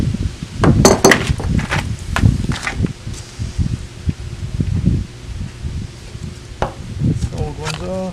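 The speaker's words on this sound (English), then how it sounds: "get this old fitting pulled off and put the new coupler on" Metal clinks and scraping taps as a worn grease fitting is worked off a grease gun during lawnmower lubrication, several sharp close knocks clustered early, then quieter handling sounds.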